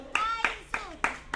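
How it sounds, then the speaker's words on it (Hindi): Children in a Prakrit language class clap together in five sharp, close-up bursts at a quick, steady pace, with young voices faintly mixed among the claps. "शिखा के लिए ताली बजाओ"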